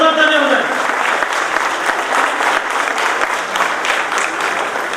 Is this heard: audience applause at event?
yes